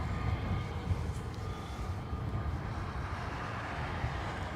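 An Aer Lingus airliner bound for Bilbao takes off from runway 10 right at Dublin Airport, its engines a constant heavy rumbling roar held at a steady level throughout.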